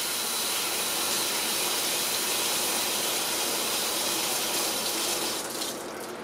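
Singer 306K motor parts rinsed under a running tap, a steady loud close rush of water splashing for several seconds, tapering slightly at the end.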